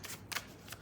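A tarot deck gives a few short papery flicks and slides as cards are shuffled, faint and close in a quiet room.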